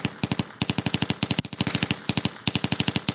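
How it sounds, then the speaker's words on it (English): Rapid bursts of automatic gunfire sound effect being EQ'd, loud and close, firing in quick rhythmic volleys with brief pauses between them. "starting to get a decent gun sound there"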